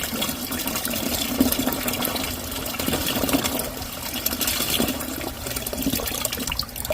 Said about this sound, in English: water's coming out this bottom tube here and going through the whole system and filling